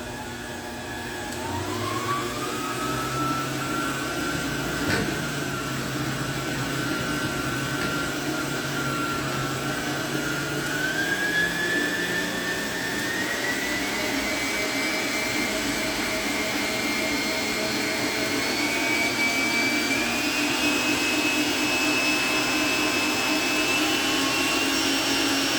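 A stand mixer beats batter for a Bolo de Rei cake. Its motor gives a continuous whine that climbs in pitch as it speeds up, heard close and steady.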